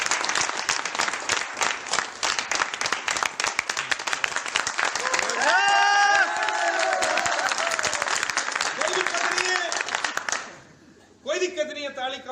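An audience at a business meeting claps in a dense, continuous burst of hands, with a voice speaking and cheering over it, before the applause cuts off and talk continues.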